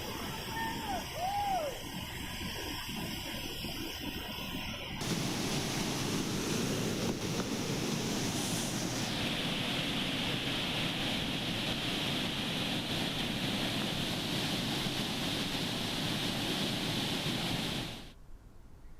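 Water rushes through the crest gates of the Bhadra dam into the Bhadra river, a steady, loud roar of gushing flow with wind buffeting the microphone, lasting throughout before ending abruptly.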